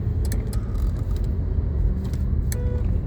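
Car fitted with an automatic robotic clutch driving in third gear in traffic, a steady close engine and road rumble from inside the cabin with a few light rattling clicks.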